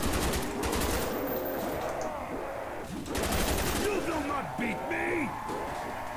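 Sustained automatic gunfire from an RPK machine gun in Black Ops II Zombies, a dense rattling stream of rapid shots that surges loud in bursts, with game sounds and voice chatter mixed underneath.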